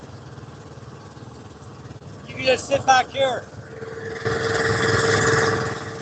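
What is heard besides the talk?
boat engine running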